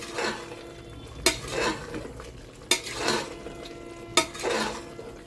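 Chopped tomatoes and Kashmiri red chili stirred in a frying pan, scraping stirs with three sharp spoon knocks against the pan over a faint sizzle, close and without talk.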